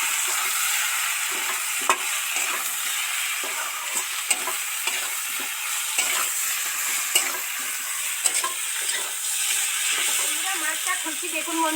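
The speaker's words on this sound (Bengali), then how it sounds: "এবার নেড়ে চেড়ে মশলাগুলো মিশিয়ে দেবে" A spoon scrapes and taps repeatedly against a pan while spices for Bengali katla fish kalia sizzle steadily in oil underneath, close up and busy throughout.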